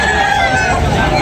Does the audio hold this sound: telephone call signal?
no